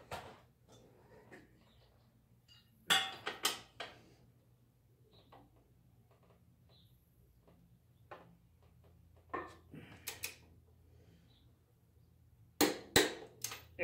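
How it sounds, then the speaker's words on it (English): A torque wrench set to 53 foot-pounds tightens a wheel bolt on a 2001 Suzuki GZ250 motorcycle, with scattered sharp metallic clicks and clacks in small clusters over quiet background hum. "Wrench is set up for 53 foot-pounds. That's what this bolt should be torqued down to."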